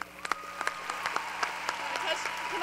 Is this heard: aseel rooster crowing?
no